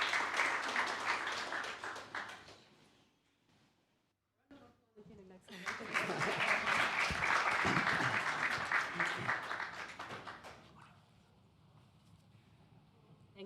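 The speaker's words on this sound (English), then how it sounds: "A round of applause to him as he makes his way to the stage." At the Rwanda Nordic-Baltic Forum, the conference audience applauds as a speaker walks to the stage. A first burst of clapping fades to near silence, then swells again, fuller and longer, before tapering off.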